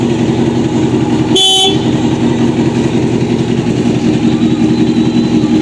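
A 1988 Honda CBR600F1 Hurricane motorcycle gives one short, loud honk of its horn, lasting about a quarter second, over a steady, close engine idle that runs through the whole recording.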